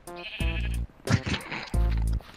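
Sheep in a video game bleat in three long, loud, sustained cries, separated by brief bursts of game noise and shouting.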